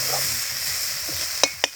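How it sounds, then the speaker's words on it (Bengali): Red lentils (masoor dal) and spices sautéing in a pan, a soft steady sizzle with a couple of sharp scrapes of a spoon stirring near the end, no talking. "এবার আমরা সব কিছু নিয়ে একটু কষিয়ে নেব।"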